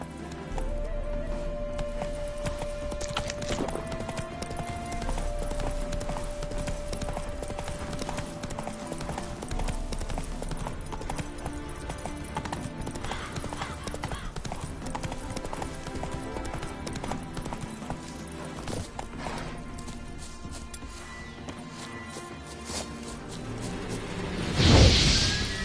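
Horse hooves clip-clop at a steady rhythm in The Witcher 3: Wild Hunt, Hearts of Stone, under continuous game music, with a brief louder whoosh near the end.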